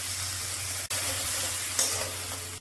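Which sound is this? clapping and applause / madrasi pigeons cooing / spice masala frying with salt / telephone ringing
spice masala frying with salt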